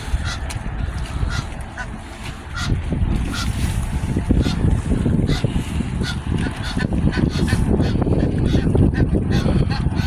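Geese honking repeatedly by the water in London, loud and close, with other waterfowl calling amid a steady outdoor background.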